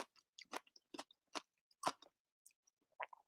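Someone chews a plant-based chickpea salad sandwich close to the mic, with soft crunchy bites and wet mouth clicks spaced irregularly against silence, no talking.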